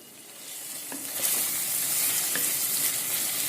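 Prawn and egg curry simmering in oil on a lit stove, a soft sizzle that builds and then holds steady and close, with a few faint clinks of a spoon against the pot.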